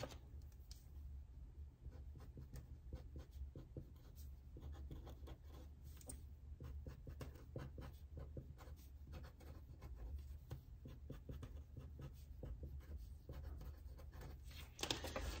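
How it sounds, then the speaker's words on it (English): A pen writes words on paper in a quiet, steady scratching that runs on without a break, close up and faint, with no talking. "we are going to write fall in love, fall in love,"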